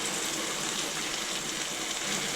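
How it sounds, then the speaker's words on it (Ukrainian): A glass of water poured into a pot of beef goulash with tomatoes gives a steady, close rushing splash that runs without a break for a couple of seconds. "Також додаю сюди склянку води."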